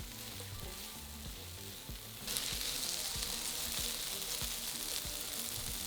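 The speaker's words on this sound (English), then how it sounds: "Fry for about 2 to 3 minutes, stirring often until the onion starts to soften slightly." Onion fries in a pan with salt, pepper and Chinese five-spice, giving a steady close crackling sizzle that grows louder partway through, with regular scraping strokes from the stirring.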